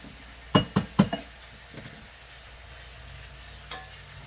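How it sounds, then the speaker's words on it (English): Raw vegetables coated in olive oil, salt, pepper, garlic, rosemary and onions being stirred in a bowl: three quick, close clinks and scrapes in a burst, then quiet, with one fainter knock near the end. "Mix them up, make sure they're coated real good with olive oil and the salt, pepper, garlic, rosemary, and onions."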